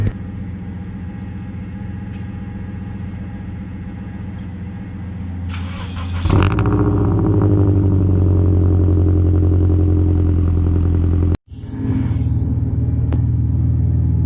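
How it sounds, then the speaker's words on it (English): A large V12 car engine fires up with a loud burst on a cold start, then settles into a steady, deep idle rumble, briefly cutting out and restarting near the end. "That V12 sounds so good."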